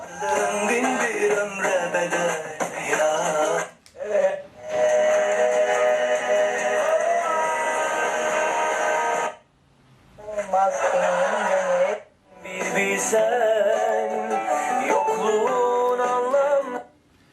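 Cheap single-remote motorcycle MP3 alarm radio plays broadcast sound loudly through its small speaker, with bright, tinny tones, cutting out briefly several times as it is tuned between stations.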